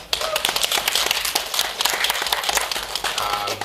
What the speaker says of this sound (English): Can we get a round of applause for those guys?